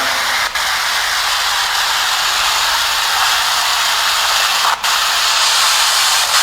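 Steady, dense hiss of white-noise static at Hollywood Forever Cemetery during a paranormal investigation fills the whole stretch, broken by two brief dropouts; no voices.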